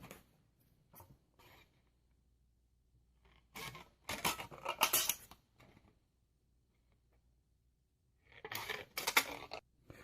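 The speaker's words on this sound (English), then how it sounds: "we're gonna cut up the pieces about 2 fingers wide" Scissors cut an aluminum can into strips in two short, close, crisp bursts of snipping and metallic crinkling, separated by quiet pauses.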